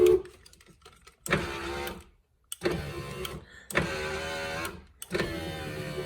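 Driver's power window motor on a 1998 Ford F150 running in repeated bursts, a whining electric hum lasting about a second each time with short silent gaps between, close and clear.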